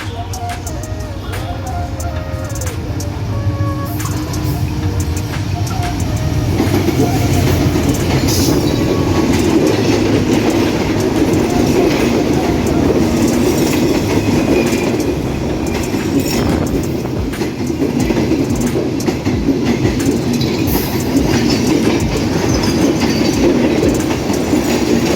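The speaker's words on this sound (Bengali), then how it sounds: "খুলনা থেকে ছেড়ে আসা সিলাহাটিগামী 727 up Rupsa express Raninagar rail স্টেশনের 1 নম্বর লাইন দিয়ে প্রবেশ করছে রূপসা এক্সপ্রেস।" The Rupsha Express from Khulna to Silahati enters Raninagar railway station on line 1. A loud, sustained rumble of wheels rolls on with clickety-clack rhythm, and metallic squeals build as the train draws near.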